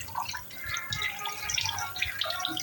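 Water dripping and splashing as a banana and small fruits are washed, with irregular close drips and trickles over a steady wet background.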